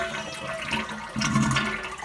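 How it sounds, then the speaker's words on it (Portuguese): A toilet flushes nearby, a gurgling rush of water that swells halfway through and keeps draining, with no voices. "quer escutar o barulho da descarga."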